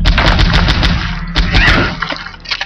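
Rapid gunshots ring out in the PS1 game Exhumed, loud and repeated in quick bursts with booming low thuds beneath, easing off toward the end.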